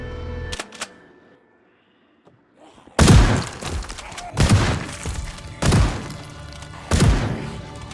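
Gunshots ring out in the video game Project Zomboid, a shotgun, pistol or rifle firing about four loud, spaced blasts, each with a booming tail, after a quieter stretch of scattered small sounds.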